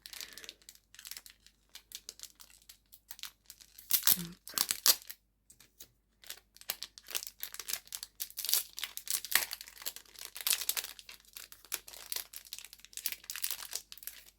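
Plastic and paper packaging of Hamanaka crochet hooks is crinkled and torn open up close, in irregular bursts of crackling and rustling with short pauses, and someone briefly speaks.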